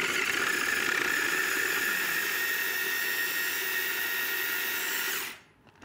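A food processor whizzes a sticky acai berry bliss ball mix with cacao nibs in one steady, loud high-pitched whir at close range, then cuts off and spins down near the end.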